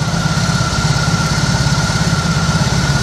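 A BMW R18 motorcycle's boxer engine idles steadily nearby, a loud, even, low throbbing pulse that runs without a break under a faint constant whine.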